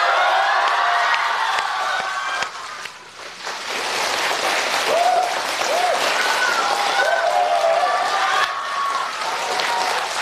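A theater audience at a crosstalk comedy show bursts into loud, sustained applause and cheering, with whoops and shouted voices rising over the clapping and a brief dip midway before it swells again.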